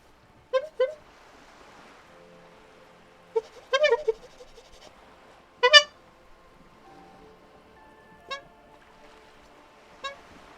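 Several short, bright electronic honks from the video game Disco Elysium arrive in scattered bursts, some doubled or clustered, each clear and close against a quiet background.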